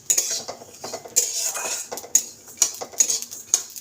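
Poppy seeds are stirred and lightly fried in a metal pan, and a utensil scrapes and clinks against the pan in a quick, irregular rhythm close up.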